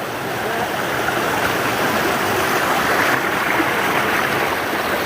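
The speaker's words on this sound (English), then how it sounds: "Real pretty river crossing here." Stream water rushes steadily at a river crossing along an Appalachian Trail section between Front Royal and Harpers Ferry, a loud, close, continuous broadband flow without talk.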